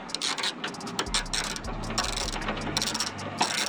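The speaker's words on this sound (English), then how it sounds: "See, I'm loosening it." A ratchet with a 10mm deep socket turning a bolt counterclockwise, rapid close clicking of the pawl in short bursts with brief pauses.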